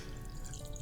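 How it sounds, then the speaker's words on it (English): Coffee pours in a quiet indoor scene from an audio drama, a soft continuous liquid trickle that sits low and faint, close by, with no voices over it. "I'll start pouring the coffee"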